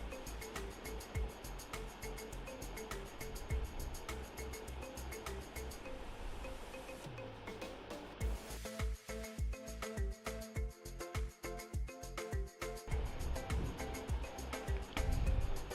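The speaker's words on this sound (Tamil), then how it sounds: "இப்போ தண்ணி நல்லா கொதிச்சுட்டு" Water bubbles at a rolling boil in a pot, a close, continuous hissing burble with a stretch of quick tapping clatter midway.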